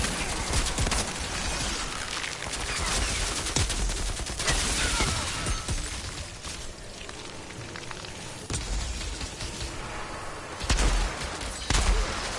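Dense, continuous gunfire in the video game Outriders, a rapid crackling fusillade of many shots that fills the whole stretch with a few louder bursts near the end, faint voices underneath.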